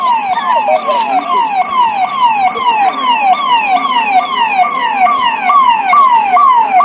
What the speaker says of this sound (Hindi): पुलिस कार मीन्स पुलिस की गाड़ी।